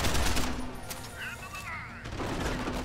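Rapid gunshots crackle in the video game Deus Ex: Human Revolution, loud at the start and end with a softer gap between, while someone talks over the shooting.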